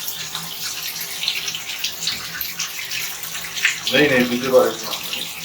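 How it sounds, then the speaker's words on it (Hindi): Water running from a household tap before the main supply is shut off in a Canadian winter home, a steady hiss with a splashier swell near the end, partly under a person speaking. "अब एक्चुअली में हमको मेन इसको घुमाना है और हमारा पानी बंद हो जाएगा"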